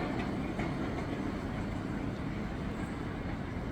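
A small park train rolls around the Großer Garten in Dresden, a steady rumbling and rattling wash with no breaks that stays fairly loud throughout.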